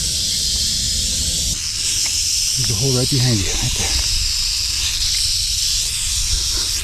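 An abandoned python found in a storage facility hisses with a steady, breathy rush that runs throughout, close and fairly loud, while someone speaks briefly over it.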